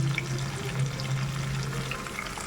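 Curry leaves dropped into hot oil with onions and mustard seeds, giving a steady, close crackling sizzle with a low hum throughout.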